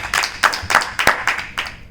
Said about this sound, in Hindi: उनकी बेहतरीन रचनाओं को एक बार जोरदार तालियां